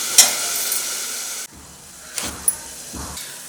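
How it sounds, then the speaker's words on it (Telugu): Tomatoes and onions frying in a pan for a dry fish and brinjal curry, a steady hiss of sizzling with a few sharp clicks and short thumps from the pan. "టమాటాలు ఉల్లిపాయలు కూడా సాఫ్ట్గా అయ్యేంత వరకు వేగాలి."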